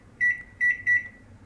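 Microwave oven heating milk, three short electronic beeps in quick succession, clear and close against a low hum.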